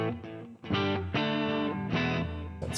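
A Maybach Edelweiß '72 electric guitar played through plate reverb and delay, sustained ringing chords that change every half second or so, full and close with the effects tails blending between them, no talking.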